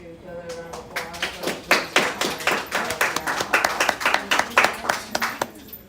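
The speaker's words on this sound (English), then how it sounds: "applause" After a school debate competition round, a small group of students claps in an uneven, fairly close patter of individual hand claps that swells and fades, with some talking mixed in.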